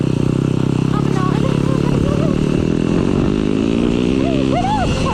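A dirt bike ridden by a young rider on trails, its engine running loud and close throughout with rising and falling revs, while someone talks and makes noises over it.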